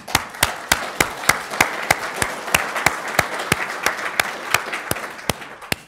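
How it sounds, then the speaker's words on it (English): Audience at a Colorado Law event applauding, a steady run of sharp, evenly spaced claps across the whole stretch with no voices over it. "Let me ask a round of applause for Sarah."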